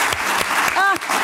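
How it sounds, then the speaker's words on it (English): Brief applause from a symposium audience fills the space, a dense wash of clapping with a short vocal sound rising over it near the end. "And if we could just give those people a round of applause,"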